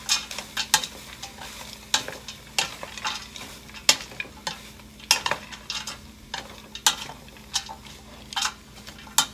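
A spoon stirring vegan chili in a pot, with repeated scraping strokes against the metal and faint sizzling underneath, steady rhythm, close and clear with no talking.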